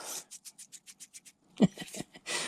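A rapid series of short gritty scraping rasps from grit in a bearing of an Arrma Mojave 6S RC truck, evenly spaced, followed by a few louder irregular grinding strokes and a final harsh rub.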